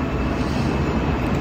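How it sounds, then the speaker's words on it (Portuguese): A steady, loud roar of an airplane flying overhead fills the whole moment, a broad continuous rumble with no voices over it. "Deixa o avião passar."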